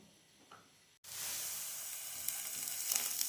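Chopped onions hit hot vegetable oil in a frying pan with a sudden loud sizzle after a second of quiet, then fry on in a steady, close, bright hiss with small crackles.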